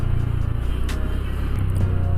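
A Honda Beat Deluxe scooter slows on engine braking with the throttle closed going downhill, giving a steady, close, low engine drone with no revving.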